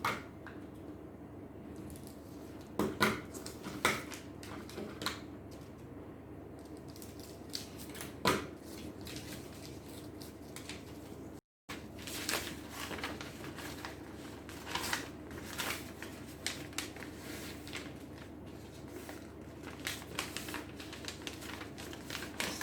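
Scissors snip through a paper sewing pattern for an armhole princess dart, giving a quiet run of scattered crisp cuts and paper rustles close by, with a brief dropout midway.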